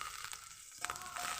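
Tomatoes sizzle and fry in oil in a pan, giving a faint, steady hiss with a brief crackling flare near the end.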